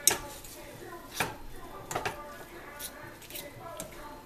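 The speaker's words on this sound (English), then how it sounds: "I'm stirring it around." Spaghetti is stirred in a pot holding 2 pounds of pasta, giving soft irregular scrapes, clinks and squishy clicks at close range, fairly quiet, with scattered sharper knocks against the pot.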